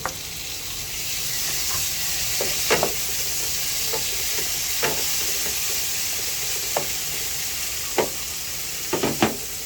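Tomatoes sauté in a hot pan with a steady, loud sizzle and hiss, while a utensil scrapes and taps the pan in scattered stirring strokes throughout.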